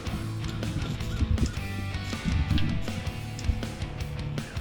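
A flock of wild Merriam's turkeys calling outdoors in the morning near their roost, with overlapping gobbles, clucks and yelps layered densely over continuous ambient noise, no talking.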